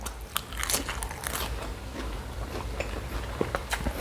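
Crunchy bites and moist chewing of grilled pork with fresh vegetables, served with sticky rice, close and loud, with sharp crackling bites repeating steadily throughout and no talking.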